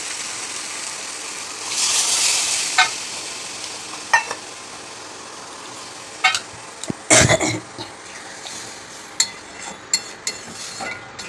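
Curry being sautéed in a pan after water has been added, a burst of loud sizzling early on followed by scattered clinks and scraping stir strokes, with no talking.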